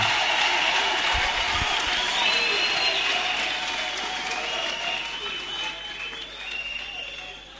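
A church congregation applauding during a worship service, loud sustained clapping from a large crowd with scattered voices and cheers, fading slightly toward the end.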